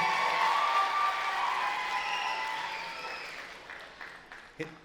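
Audience applause at a black belt martial arts showcase, steady and fairly loud at first, then gradually thinning out and fading, with a few scattered late claps near the end.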